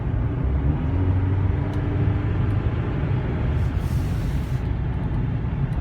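2016 GMC Canyon Diesel All Terrain pickup, engine rumbling steadily from inside the cab while driving, a low continuous drone with slight pitch changes, moderately loud, no talking.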